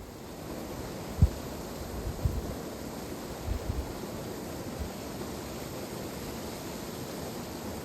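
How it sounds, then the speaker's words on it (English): Faint, steady rushing of a flowing stream by a remote Scottish loch fills the clip, a soft broadband wash with a few light knocks and bumps nearby. "the sound of that flowing water is just so enticing"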